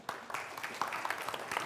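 Applause from a conference audience at Kraftelektronikdagen 2023 for three speakers, faint and distant scattered clapping that stays fairly thin throughout.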